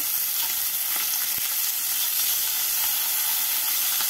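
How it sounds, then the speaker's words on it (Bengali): Katla fish pieces frying in a pan over medium-low flame, giving a dense, even hiss of hot oil with a few faint clicks, close and constant, no talking. "গ্যাসটাকে মিডিয়াম টু লো ফ্লেমে রেখে মাছগুলোকে এপিট ওপিট করে ভেজে নেব"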